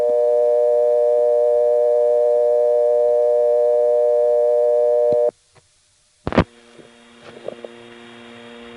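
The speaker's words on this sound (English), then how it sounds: "First thing I'm going to record is repair service, because we've got a phone next to me here that's broken." Telephone line tones on a 1976 step-by-step exchange while calling repair service: a loud, steady multi-tone hum holds for about five seconds, then cuts off. Silence follows, then a sharp click and faint line noise.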